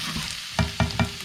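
Ginger and garlic fry in a pan over fairly high heat, a sizzle running throughout with three sharp bursts of stirring toward the end; no one speaks.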